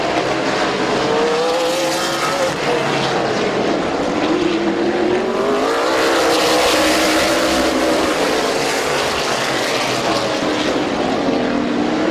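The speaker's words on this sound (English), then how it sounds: "Good side-by-side racing for the fifth spot." Stock cars race side by side on the Midvale Speedway oval, their engines roaring loud and continuous as the pack passes close, the pitch rising and falling throughout with no break.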